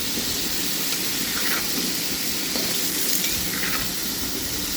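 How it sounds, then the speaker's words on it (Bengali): Potatoes fry in oil left from cooking eggs, seasoned with turmeric, making a constant close hiss and sizzle with a few soft crackles and no voices. "এখন আমি আলুগুলোকে ভেজে নিব ডিমের তেলের মধ্যে"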